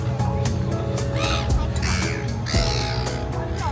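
Crows caw repeatedly over a busy city street in New Zealand, loud and close, with a steady background hum of traffic and people.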